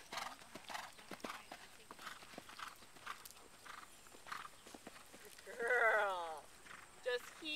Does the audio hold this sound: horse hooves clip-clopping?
yes